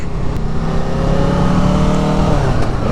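A Nissan Maxima drives past close by, its loud engine note holding steady and then shifting as it goes by, with no voices over it.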